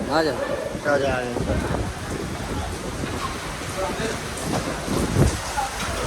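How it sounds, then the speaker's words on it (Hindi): Steady heavy rain hisses and patters throughout at the Margalla Hilltop Restaurant in Islamabad, with people talking nearby over the downpour. "बारिश बिल्कुल स्पीड उठी है"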